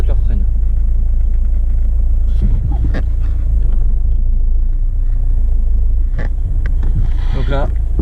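A 2008 Seat Leon 1.9 TDI drives and brakes after a rear brake pad change, its deep, steady engine and road rumble filling the whole stretch with a few brief clunks and a faint voice near the end.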